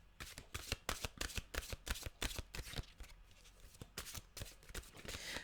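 Mantra cards being shuffled by hand, a rapid run of crisp riffling slaps and flutters in an irregular rhythm, close and fairly loud with no talk.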